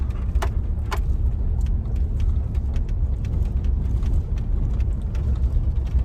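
A car rolls along a dirt road with a steady low rumble, light rattles and small clicks over the road noise.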